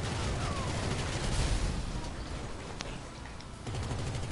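Gunfire from a GTA Online firefight, dense bursts of shots crackling fairly loud and close for several seconds, with a short lull near the end before the rapid fire picks up again.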